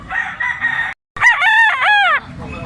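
A white huckle stag rooster gives a loud, near crow: a short burst, a brief pause, then a long wavering call lasting about a second before it trails off.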